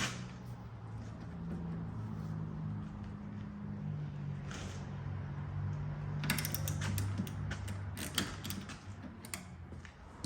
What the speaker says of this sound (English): Tighten up our sway bar link that we put in the end of the sway bar link. Get that tightened up good.